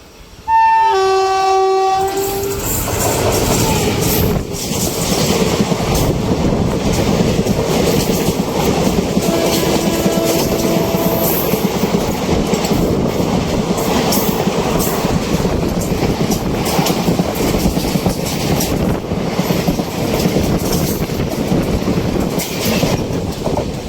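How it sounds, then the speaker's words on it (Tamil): A train horn sounds, then a train races past at speed on a railway track near a station, a loud sustained roar with rhythmic clickety-clack of wheels lasting throughout, no talking. "ட்ரெயின் வர்ற சவுண்டு கேட்குது கைஸ்"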